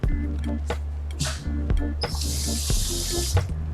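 Tap water runs into a bowl of egg and flour batter while home cooking, a steady hissing pour that follows brief kitchen clatter.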